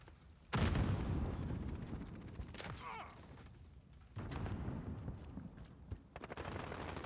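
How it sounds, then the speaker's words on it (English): Grenade blasts and gunfire in the video game Call of Duty, with sharp loud explosive bursts and rattling shots across the clip and faint voices in between. "Throwing grenade!"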